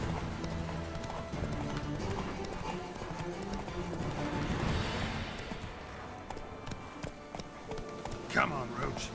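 Geralt's horse Roach galloping in The Witcher 3 video game, with fast rhythmic hoofbeats under game music and a rising whoosh, ending in a burst of clattering.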